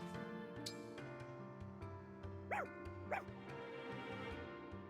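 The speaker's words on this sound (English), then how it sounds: "Spices? Ooh, a puppy." A puppy in the video game Fire Emblem Engage gives two short yips over steady game music, fairly faint and close together in the middle of the passage.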